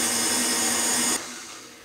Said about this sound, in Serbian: Maslac sada samo malo promiješajte mikserom